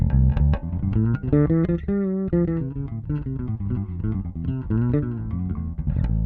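A fretless electric bass with both pickups on plays a fluid, singing melodic line with smooth slides between notes, sounding warm and up front with no other instruments.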